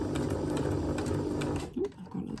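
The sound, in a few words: sewing machine stitching paper stars into a garland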